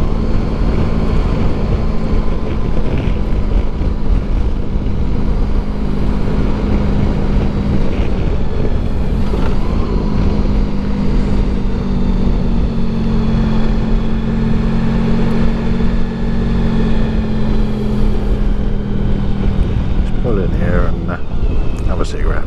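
A motorcycle riding across Dartmoor, its engine droning steadily with a constant hum and rushing wind throughout, the pitch shifting slightly as the ride goes on.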